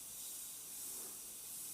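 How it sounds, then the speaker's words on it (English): Airbrush atomising FW paint with a low trigger setting, a steady close hiss that fills the short moment without a break. "it doesn't atomise the paint as clean as other brushes when it's down low"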